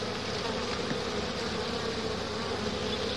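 Dense, steady buzzing of many honey bees, drones among them, at an apiary hive, continuous and fairly loud with no talk.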